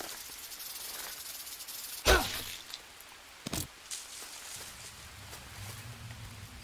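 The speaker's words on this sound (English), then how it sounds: "Well, we found a snake." Snake hiss in the jungle survival game Green Hell, a sharp burst of airy hissing followed by a second shorter hiss over quiet rainforest ambience.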